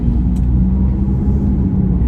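A Mitsubishi SUV drives along a road, heard as a steady low engine and road rumble from inside the car with no talking.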